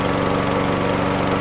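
A petrol SABO commercial lawn mower runs close by on wet grass, giving a loud, steady engine roar with a fast pulsing beat and no pauses across the short burst.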